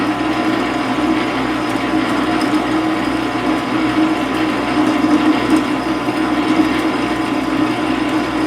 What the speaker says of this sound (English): I'm going to hand feed this in for a ways, and I'll come in and chamfer the edges.